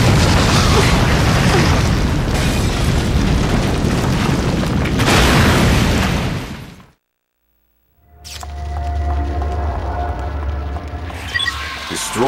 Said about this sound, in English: I'm picking up a giant tremor!